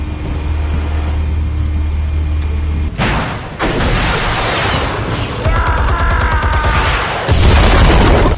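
Explosives detonating in Batman: The Telltale Series, a loud boom around three seconds in followed by sustained roaring blasts and rumbling debris layered over a droning game soundtrack, no speech.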